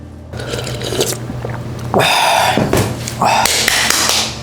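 Crisp crunching bites as someone chews crunchy bean sprouts up close, with a few clattering taps in between.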